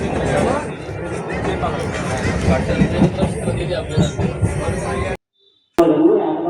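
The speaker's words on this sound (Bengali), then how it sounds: "অবশেষে তারকেশ্বরের ট্রেন ধরে উঠলাম, তারকেশ্বর লোকাল ধরে উঠলাম।" A Tarakeswar local train rumbles along steadily with a busy babble of passengers talking around it, and the sound cuts out abruptly near the end.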